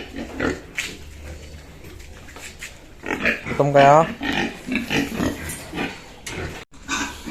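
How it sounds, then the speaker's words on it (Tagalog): Pigs on a farm grunt and squeal at feeding time, including a pregnant native sow, with someone talking over the animals; a loud squeal stands out midway amid ongoing grunts. "Papamilindahin po natin ngayon yung ating mga champ na mga baboy."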